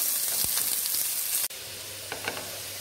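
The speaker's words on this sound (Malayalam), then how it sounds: "ഇനി ഇതിലേക്ക് നമ്മൾ എടുത്തു വെച്ചിരിക്കുന്ന സവാള നീളത്തിൽ അരിഞ്ഞത് ഇട്ട് കൊടുക്കാം" Long-sliced onions fry in ghee and coconut oil, giving a loud, continuous sizzling hiss with a few light stirring clatters. The sound dips briefly midway, then settles into a softer steady sizzle.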